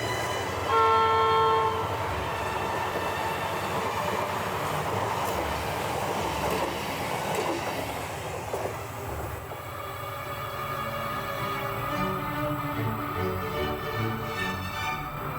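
A train on Norway's Nordland Railway along the Trondheim Fjord rumbles steadily along the tracks with a horn blast early on, wheels grinding and squealing as it rolls on, loud and continuous without talk.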